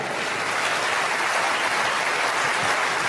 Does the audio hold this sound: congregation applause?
yes